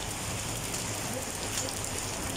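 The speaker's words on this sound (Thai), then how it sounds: "วันนี้ฝนตกหนักมากนะครับทุกคน" Heavy rain pours steadily around a roadside coffee and cocoa stall, a dense, even hiss of drops with no breaks throughout.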